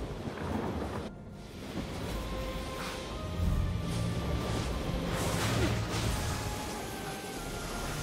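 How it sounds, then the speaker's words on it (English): Thunder follows a lightning bolt in the video game Immortals Fenyx Rising, with a sudden crack, then a broad, rolling rumble that swells and lingers for several seconds under wind-like whooshing. "And we got another bolt of lightning."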